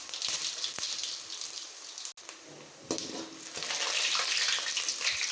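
Mustard seeds, urad dal and chana dal frying in hot oil in a home kitchen, giving a continuous bright sizzle with small crackles and pops, close and fairly quiet, with no talk.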